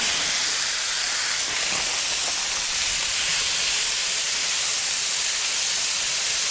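Au gratin potatoes sizzle on a hot Weber Slate flat top griddle, a dense, even hiss that stays loud and unbroken throughout with no talking.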